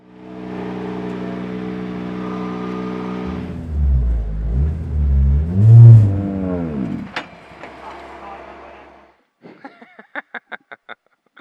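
Rally car with a sequential gearbox on a first drive: a loud close engine hums, surges and revs with sweeping pitch changes, then fades, followed by a run of rapid clicking taps.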